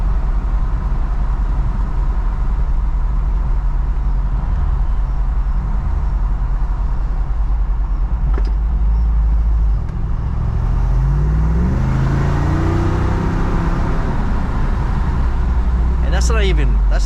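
A Jeep 392 V8 engine roars steadily at close range, its note rising in a revving surge near the end at about half throttle, with a voice talking over it.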